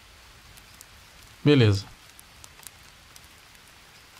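Rain falls steadily in the jungle of Green Hell, a soft continuous hiss of drops running throughout, briefly interrupted by a single short spoken word.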